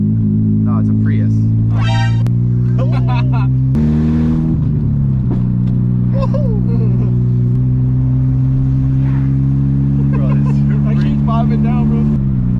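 A second-generation Mitsubishi Eclipse on its third engine, with smoke coming from the header, running and driving; a steady low engine drone shifts pitch as it moves, while people talk over it.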